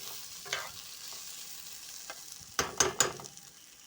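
Green chili fries in a pan with tomato sauce for veg chow mein. The oil sizzles and hisses steadily while a utensil stirs with several sharp scrapes and clanks near the end, close by and with no voices.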